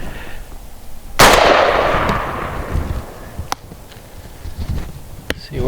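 A Benelli M2 Super 90 shotgun fires a single 1-ounce slug outdoors, one sharp loud blast with a long rolling decay, followed by quieter ambient noise and a couple of faint distant clicks.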